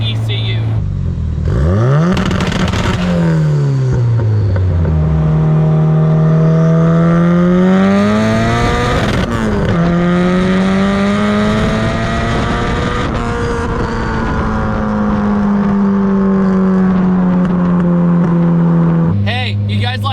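A 700 hp turbocharged KA engine in an S13 240SX runs close by, its pitch rising and falling through several smooth revs before settling into a steady, droning idle.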